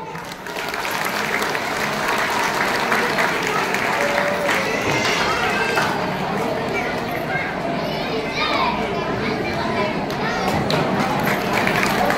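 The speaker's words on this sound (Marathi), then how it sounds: "तर सर्वांनी त्यांना टाळ्या वाजवल्या." An audience at a Marathi lecture event claps steadily for a birthday, a continuous roar of hands mixed with children's chatter and crowd voices.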